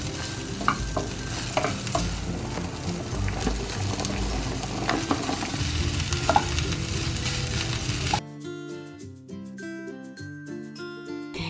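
Vegetables for a simple dinner are stirred and fried in a pan, with a steady sizzle and repeated scraping and clinks of the utensil. At about eight seconds the cooking noise drops away and music takes over.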